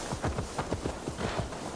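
Horse hooves clip-clopping in Assassin's Creed Valhalla, a quick, even run of close, crisp hoof strikes at a trot, with no talk.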